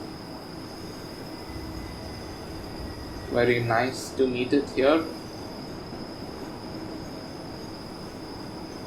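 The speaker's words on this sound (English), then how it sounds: "Oh, that's the train that has come from Scuol Taras." A Rhaetian Railway train from Scuol-Tarasp passes in a train simulator game on the Albula Line, a loud rumbling, squealing burst lasting about two seconds over steady cab hum, with someone talking.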